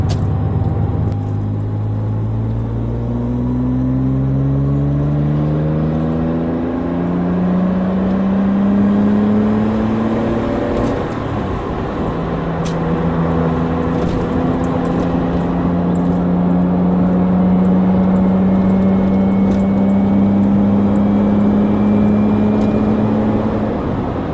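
A Porsche Boxster fitted with stainless steel exhaust manifolds runs on and on, its engine note rising and falling through gentle revs, heard from inside the car with no talking.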